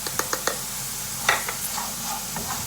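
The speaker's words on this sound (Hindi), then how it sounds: "थोड़ा सा इसे मिक्स कर लो अच्छी तरीके से" Salted potatoes stirred in a frying pan: a few sharp scraping clicks of the spoon up front, then a soft steady sizzle with occasional scrapes, close by and with no voices.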